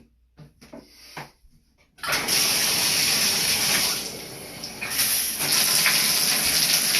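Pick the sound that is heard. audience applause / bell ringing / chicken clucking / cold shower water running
cold shower water running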